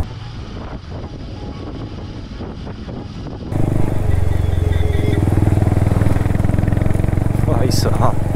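Royal Enfield Hunter 350 or Interceptor 650 motorcycle engine droning steadily while riding on an open road, louder and rougher in the second half under wind noise, with someone talking over it early on.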